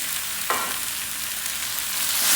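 Onions and carrots frying in a pan for vegetable spring rolls: a steady, close hiss of sizzling oil, with a sharp burst as something lands in the pan early on and the sizzle brightening at the end.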